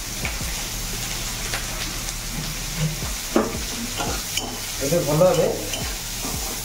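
Onions frying in a pan with panch phoran, green chillies and tomato for a drumstick and potato curry, giving a steady close sizzle with stirring scrapes and a brief spoken remark.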